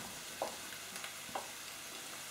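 Apples and softened onions fry in a pan, a quiet steady sizzle with a couple of soft stirring clinks, with no voices.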